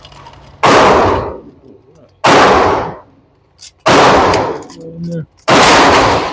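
Ruger Mark IV 22/45 Lite .22LR pistol fired at a range: four sharp, loud gunshots spaced over a few seconds, each with a short decaying tail, with brief speech between shots.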